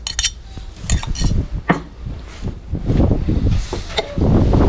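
A spoon clinks and scrapes in a bowl while a spicy sauce with chopped garlic, red onion and pepper is stirred for shashlik marinade, irregular clatters over soft wet mixing sounds.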